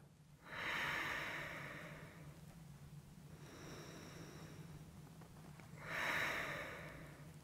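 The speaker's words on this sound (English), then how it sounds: "Take 2 more breaths here." Slow, deep breaths during a seated stretch, two long airy inhales or exhales about five seconds apart with a softer one between, close to the microphone and quiet.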